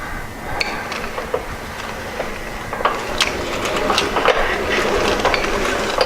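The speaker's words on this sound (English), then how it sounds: "The noise you hear is not the bearings, it's the guard rubbing." Grinding wheel guard on a surface grinder under refurbishment rubbing as the spindle turns, giving a steady low whir with irregular light ticks and scraping clicks that grow slightly louder toward the end.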